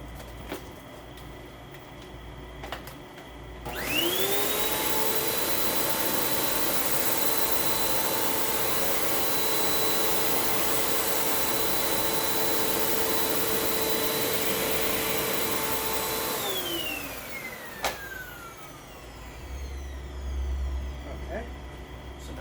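A Hoover WindTunnel 3 Pro Pet upright vacuum cleaner in bare floor mode with the brush off spins up after a quiet stretch, holds a steady loud whine for about thirteen seconds, then winds down with a falling pitch.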